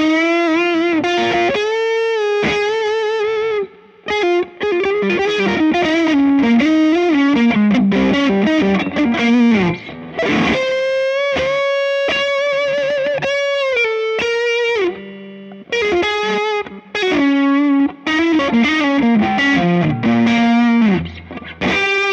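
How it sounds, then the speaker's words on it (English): Electric guitar playing a singing high-gain lead through a Bogner amp, loud, sustained and heavily distorted, with fluid legato phrases and held notes running almost continuously, no voices. "Now when I switch over to the Bogner, you'll hear high gain singing lead tone"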